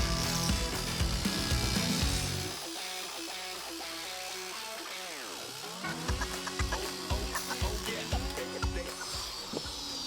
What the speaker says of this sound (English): See how this is taking the impact of the nibbler rather than this panel changing.